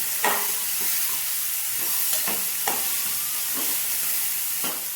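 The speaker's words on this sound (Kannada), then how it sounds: "ಇದನ್ನೆಲ್ಲ ಚೆನ್ನಾಗಿ ಮಿಕ್ಸ್ ಮಾಡಿಕೊಂಡು 2 ಮಿನಿಟ್ಸ್ ಇದನ್ನು ಫ್ರೈ ಮಾಡ್ಕೊಂಡು ಬಿಡೋಣ" Boiled peanuts with tomato fry in a pan with a steady hiss and sizzle, while a spoon stirs through them in several soft, evenly spaced scrapes.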